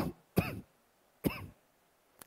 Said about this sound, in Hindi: ए राम मेरी खांसी कब जाएगी